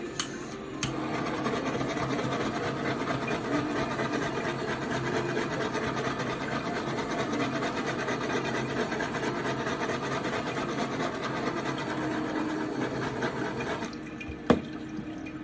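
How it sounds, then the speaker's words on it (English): A handheld torch steadily hisses and roars over the fresh coating on a tie-dyed glitter tumbler with scrapbook paper, a close, continuous rushing sound broken by a couple of small clicks. "now I'm going to use my torch to get any air bubbles"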